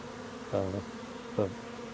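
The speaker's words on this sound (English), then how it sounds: "it looks like there's a lot of bees in the bottom box too" Bees in a beehive box, heard as two short, close buzzing bursts separated by a pause over a faint background hiss.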